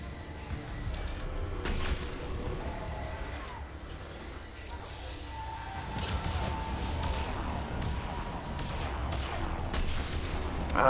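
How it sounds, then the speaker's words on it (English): Explosions and bursts of gunfire from the Mass Effect 3 video game crackle and boom over a dense, busy battle soundscape, with repeated sharp blasts at a moderate distance and no talk. "Okay, all I am seeing are explosions."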